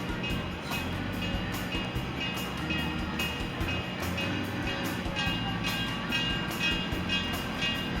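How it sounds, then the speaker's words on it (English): A Conway Scenic Railroad steam train rolls in, giving a steady rumbling rail noise with rhythmic clatter over the track, fairly loud and continuous, with faint crowd sounds in the background. "When the steam engine gets in here, everybody give it a big wave to the engineer."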